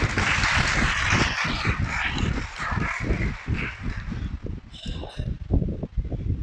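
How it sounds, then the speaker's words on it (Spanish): A church congregation breaks into dense, continuous applause that stays loud and even across the whole stretch, a thick wash of many hands with no voices standing out. "Dale un aplauso al Creador"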